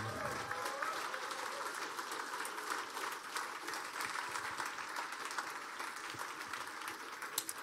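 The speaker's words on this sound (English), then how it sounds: "Big applause for the winner of the Mercedes AMG Motorsport eRacing competition." Applause rings out for the winner at the Mercedes AMG Motorsport eRacing competition finale, a crowd clapping steadily and densely in a large hall, with a voice over the PA and murmuring in the background.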